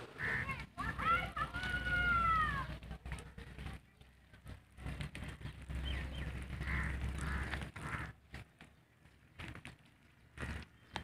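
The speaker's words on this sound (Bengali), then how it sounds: "হাঁসগুলো পুকুরে জলে কত সুন্দর চড়ছে!" Ducks on a village pond giving a few nasal honking quacks early on, then quieter scattered calls over soft outdoor background noise at moderate distance, with no one speaking.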